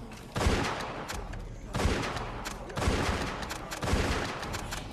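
Gunfire in The Walking Dead video game, coming in four loud, evenly spaced bursts of shots with echoing tails.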